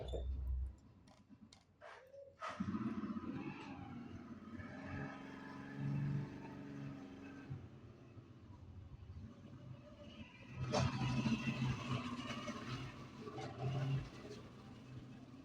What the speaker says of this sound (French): c'était à cause du bruit de la moto que je me suis arrêté